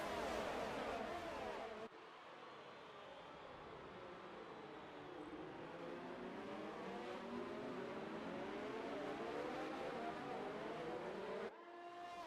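In an F1 2019 racing game at an Italian circuit, a pack of Formula 1 cars roars off the start and rises in pitch as the engines wind up, a sustained, layered whine.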